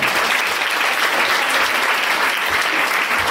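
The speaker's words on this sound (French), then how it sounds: "on peut lui faire un grand applaudissement" An audience applauds steadily and loudly throughout at a leadership event, dense clapping with no voices rising above it.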